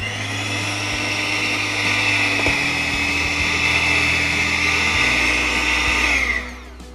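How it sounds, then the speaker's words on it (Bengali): Electric hand blender whirring steadily through cake batter with vanilla essence, a loud, even motor drone with slight pitch shifts as it moves, then winding down and stopping at the end. "তারপরে আবার এই হ্যান্ড ব্লেন্ডার দিয়ে একটু মিক্স করে নাও।"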